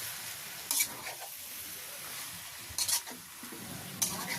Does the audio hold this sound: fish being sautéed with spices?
yes